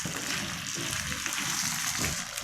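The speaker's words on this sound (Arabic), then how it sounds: "نزلنا بالقلقاس وهو متفرز على طول متجمد اهو" Frozen taro fingers frying in very hot oil, giving a dense, continuous hiss and crackle that stays steady and close throughout with no voices.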